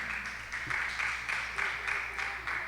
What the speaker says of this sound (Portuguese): Dá mais uma salva de palmas para o Senhor